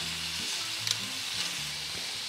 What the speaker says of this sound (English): we're going to brown the meat on both sides